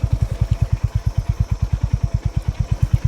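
A motorcycle engine thumps in a steady, rapid low pulse, close and loud, like a bike idling or riding slowly with no voices, on a rough, deeply pitted track beside fenced land near a village in the Hoshiarpur forests, Punjab.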